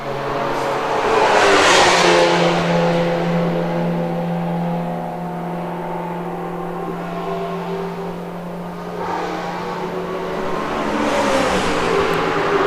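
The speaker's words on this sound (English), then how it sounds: "There's the Ligier of Guillaume Roman just exiting pit lane" A Ligier race car pulls out of the pit lane at Mugello during a 12-hour endurance race, its engine whine rising and swelling as it passes, clear and fairly close, with another surge of revs near the end.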